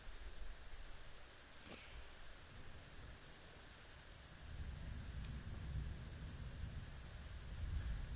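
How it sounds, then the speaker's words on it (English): Storm ambience in a horror video game, with faint steady rain hiss and a low, distant rumble of thunder that swells in the second half, quiet and continuous with no voices. "You should be hearing, like, some storm ambience."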